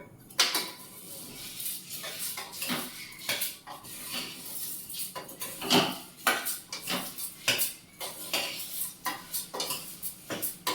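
A metal spatula scrapes and clatters against a pan in repeated uneven strokes while fenugreek dal is stirred and fried nearby, the clanks loud and close over a faint background.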